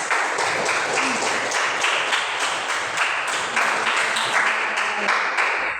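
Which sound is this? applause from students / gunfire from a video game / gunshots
applause from students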